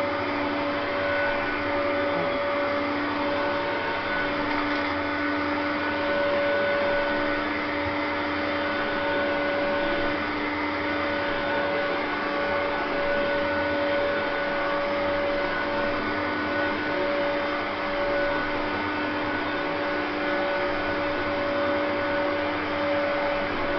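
A vacuum cleaner runs steadily on carpet, a constant whining hum with a couple of sustained tones and no pauses, close and unbroken throughout.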